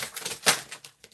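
A deck of tarot cards being shuffled by hand, with quick papery riffles and flicks and one louder burst of fanning cards, close and brief, fading into sparse taps.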